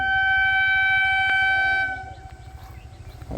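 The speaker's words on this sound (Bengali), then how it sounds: "এই কাঞ্চনকন্যাটা এখান থেকে পাস করবে এখন চা বাগানের মাঝখান থেকে" The Kanchankanya Express passing through a tea garden, its horn blaring loud and sustained before cutting off, leaving the rhythmic clatter of wheels and cars rolling by nearby.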